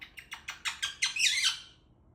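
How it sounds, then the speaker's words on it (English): A Quaker parrot gives a rapid run of about seven sharp, loud squawks, speeding up and merging into a harsh screech before stopping, close and alone. "Y'all want to know how loud Quaker parrots are?"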